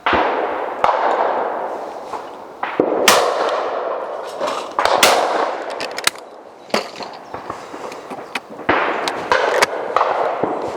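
Old and new Browning XS shotguns fire fast cartridges outdoors, giving loud, sharp blasts with ringing decays, several shots spaced irregularly over about ten seconds.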